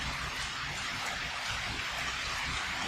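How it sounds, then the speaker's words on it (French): Steady rain falling outdoors, a constant soft hiss with no clear individual drops, even in level throughout and heard alone. "Alors en ce moment, il pleut dehors"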